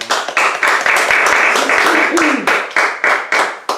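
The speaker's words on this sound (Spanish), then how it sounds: "Den un aplauso al Señor." A church congregation claps in praise, loud and close, with a quick rhythmic beat running through a broad wash of hands and voices joining in above it.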